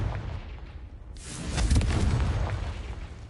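Confringo blasting spell in Hogwarts Legacy: a quiet rumbling lead-in gives way to a sudden loud explosive burst that booms and rolls on, slowly fading.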